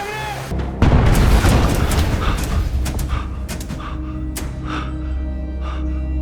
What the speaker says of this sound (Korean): 곳곳에서 물이 들어와 샘물이 만나 폭발하기 시작했습니다